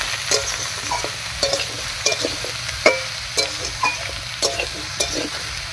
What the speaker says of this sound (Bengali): ফোড়নের উপরে সবজিগুলোকে বেশ কিছুক্ষণ খুব ভালো করে নাড়াচাড়া করে নেবে